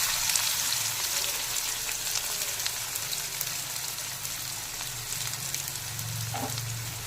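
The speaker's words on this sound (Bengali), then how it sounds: "এবার পেঁয়াজটা একটু ভেজে নেব" Four medium chopped onions fry in a pan for a Kolkata-style mutton kasha, giving a steady, close hiss of sizzling with faint stirring scrapes throughout and no talking.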